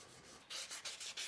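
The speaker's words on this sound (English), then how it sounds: "You don't have to put a handle on this knife, but flip side of that is you do have to sand the entire thing." Twist Damascus steel neck knife being sanded by hand across the whole blade, heard as a run of about five steady, fairly loud abrasive strokes in an even back-and-forth rhythm after a quiet start.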